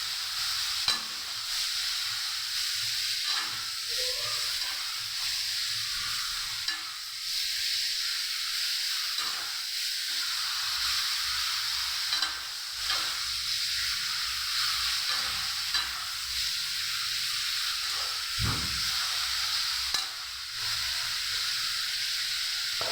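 Mashed jaggery and milk fry in a pan with a steady, continuous sizzle and hiss, and stirring scrapes and taps break in now and then.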